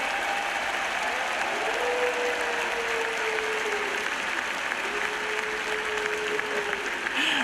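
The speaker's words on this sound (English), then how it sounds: "let's have a round of applause for all of the teams" Sustained applause from a large crowd at the Dota 2 International 2025 esports tournament, a dense steady clatter of clapping that holds at an even level throughout.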